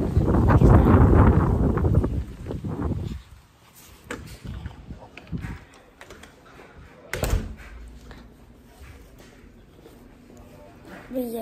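Strong wind buffets the microphone in loud rushing gusts that die down into quieter stretches with scattered knocks and rustles.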